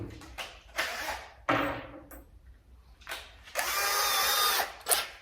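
A power drill bores into a mahogany corner cabinet in several short bursts, each spinning up and cutting off, with a longer steady run near the end; close and fairly loud, with brief quiet gaps between bursts.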